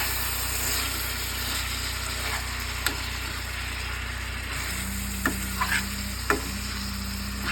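Steak-umm sliced meat frying on a griddle over a camp stove, a constant low sizzle under a steady hum from the burner, with a few light taps and scrapes of a utensil late on.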